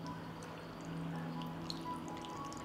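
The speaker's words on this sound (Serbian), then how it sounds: "Sipat ću vodu u teglu." Water poured steadily into a glass jar packed with cabbage for pickling, a continuous soft gurgling stream at close range with no voices.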